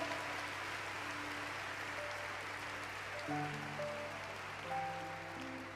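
A church congregation applauding, soft sustained clapping at a low level with sustained musical tones from instruments or keyboard rising and shifting beneath it.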